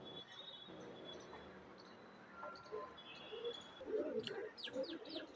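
A breeding pair of Punjabi pigeons coo softly in a few low, rounded bursts that grow slightly stronger toward the end, heard faintly alongside light chirps and background hiss.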